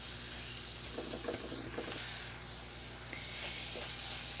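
A masala mix for Kerala sardine curry sizzles steadily in a hot pan, a continuous close frying hiss with occasional stirring scrapes.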